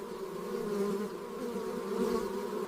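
Honeybees buzzing at their hive entrance, a steady close drone of many wings with slight swells in loudness, no voices present.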